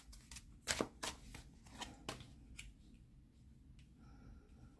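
Tarot cards being shuffled by hand: a run of crisp, close riffling snaps and flicks, loudest near the start, then settling into softer, quicker card rustles.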